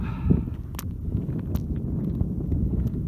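Rough wind buffets the microphone on a mountain ridge in the Pyrénées-Orientales, a low rumbling roar that persists throughout with a few brief clicks and knocks.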